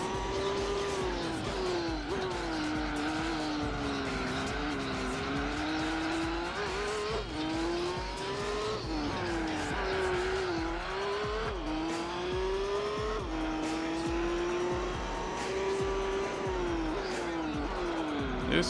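A race car in Gran Turismo 4 drones steadily at close range, its engine pitch rising and falling through gear changes and corners over tire squeal, loud and continuous with no talk.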